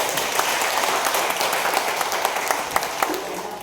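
Audience applause at the blessing and inauguration of a multi-purpose hall in Sto. Domingo, a steady burst of dense clapping from a large crowd, loud and close, with a few sharper individual claps standing out.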